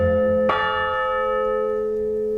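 A single deep church bell strike rings out, its rich overtones sustaining and slowly fading, with a lower tone already humming beneath, part of a Greensleeves fragment played on a set of six bells in Cambridge.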